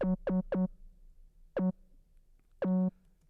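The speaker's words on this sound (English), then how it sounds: "a great trick is that you just take your kick and you put it on the 808 track" A kick drum copied onto an 808 bass track in Ableton Live, sounding as short, tonal booming hits: three quick ones, a pause, then two more, the last held longer, in a lo-fi hip hop beat.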